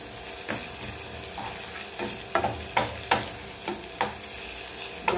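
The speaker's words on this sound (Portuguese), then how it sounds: "Tá aqui o bacon. Dando aquela murchadinha." Bacon sizzles and wilts in a frying pan as feijoada is prepared, a steady close fry hiss broken by several sharp crackles and stirring scrapes, with no talking.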